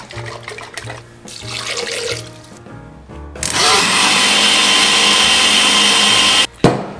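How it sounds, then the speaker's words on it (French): Water poured into a pot to rinse out the bottom while making a super juice drink, a steady broadband splashing rush that starts partway through and runs loud and continuous, after quieter handling and clatter. "le bon volume d'eau que je vais remettre aussi dans le fond du pot pour nettoyer"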